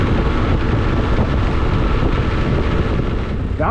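Steady, loud wind roar buffets the rider of a Yamaha Tenere 700 cruising at 60 mph with a new taller windshield set to its lowest position, a constant broadband rush with no talking.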